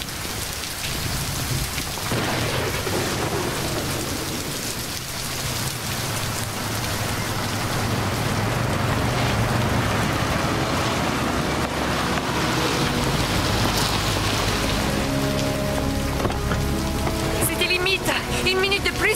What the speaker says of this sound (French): Je vous préviens, cette tempête s'intensifie.